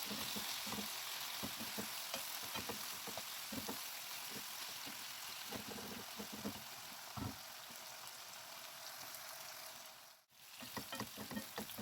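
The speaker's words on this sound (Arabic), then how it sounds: "هقلبهم هما الاتنين مع بعض وهسيبهم يتحمروا" Onions and sausage frying in a pan, a steady close sizzle with occasional stirring scrapes and clicks, no voices.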